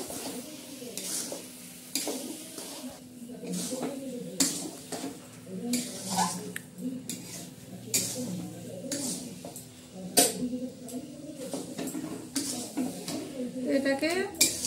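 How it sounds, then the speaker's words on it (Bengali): Grated carrot halwa with cardamom seeds being stirred in a pan, irregular scraping and knocking of a spoon against the metal over a soft sizzle, close and moderately loud, with occasional quiet voices. "এবার ভালো করে নাড়াচাড়া করে নেব।"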